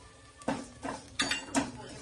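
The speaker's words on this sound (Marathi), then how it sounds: "आता ह्याच कढईमध्ये मी पोहे भाजून घेते।" Four scraping strokes of a spatula across a wok, dry flattened rice (poha) flakes rustling and shifting with each pass as they roast, about one stroke every half second.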